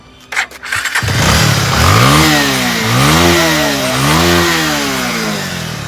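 A motorcycle starts after a few brief clicks, catches with a loud close roar, then revs up and down in several swelling waves before settling into a rough idle.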